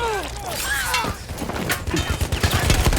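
Bursts of gunfire from the video game Battlefield, rapid cracks and clattering shots stacking up near and loud, with a whistling sweep early and a dense crackle of shots toward the end.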